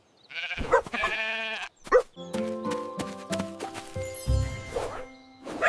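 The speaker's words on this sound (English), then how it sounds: "This is a sheep. It goes ba-ba." A cartoon sheep bleats in a children's educational animation, several wavering voiced bleats with short breaks, close and clear, with cartoon dog-like barks mixed in.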